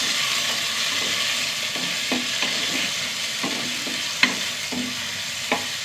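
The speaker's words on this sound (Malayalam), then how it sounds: "ഈ തക്കാളി ഒന്ന് നന്നായി വഴണ്ട് വരട്ടെ" Large tomato sautéing with browned small onions in a hot pan, a continuous close sizzle with regular soft scrapes of stirring and two sharper utensil knocks near the end.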